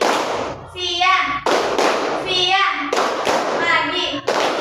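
Students in an Indonesian high school classroom doing a call-and-response clapping chant, voices chanting with sharp group claps and thumps punctuating each phrase in a steady rhythm, close and loud.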